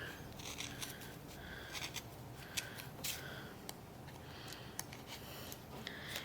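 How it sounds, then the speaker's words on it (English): Scissors snip through yarn wound between two donut-shaped forms to make pom-poms, giving a steady run of crisp, close cutting clicks and rustles. "as we cut between the two donut shapes, we'll also be cutting the yarn in half for our pom-poms."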